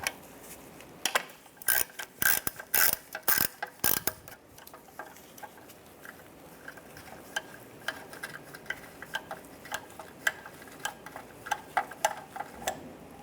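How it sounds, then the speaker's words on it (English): A ratchet with an E10 socket loosens the oil return line bolt on a Chevrolet Cruze, giving rapid clicking bursts early on, then sparser, quieter ticks and clicks, close up with no talk. "You're going to use an E10 socket. Take that bolt out."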